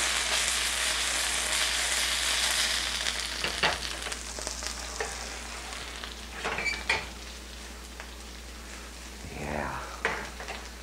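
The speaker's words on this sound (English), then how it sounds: "these are up and sizzling nice, which means it's time for the leek" Sliced leeks fry and sizzle in a hot pan, a constant, fairly loud crackle with occasional stirring scrapes and faint voices underneath.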